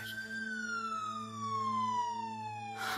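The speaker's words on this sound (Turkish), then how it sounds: "ambulans geldi" An ambulance siren in a Turkish television drama, a loud, close single wail that sweeps slowly downward in pitch over a steady low drone, with a burst of noise at the end and no talking.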